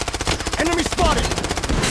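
Rapid automatic gunfire rattles loud and close in a video game, a dense stream of shots with brief game voice lines underneath.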